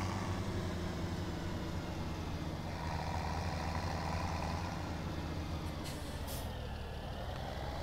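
In Farming Simulator 2017, a truck's air brakes hiss in short bursts over a steady engine drone.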